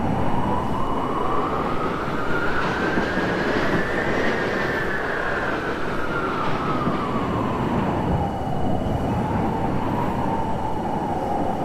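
A New York City subway train runs in the Roblox game, a continuous loud rumble with a tonal whine that rises, falls and rises again across the run, with no voices over it.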